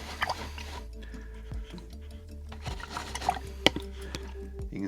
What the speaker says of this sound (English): going to rinse it out